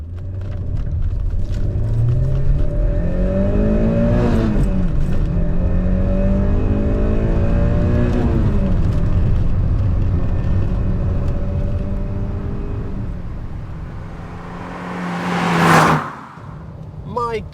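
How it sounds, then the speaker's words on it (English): Peugeot 405 Mi16 engine accelerating hard through the gears, revs climbing in long rising sweeps broken by brief dips at each upshift, loud and close from inside the car, with a sharp noise burst near the end. "This is the bit now though where we're going to go through the gears, and this engine, I know from my BX that it's a little delight"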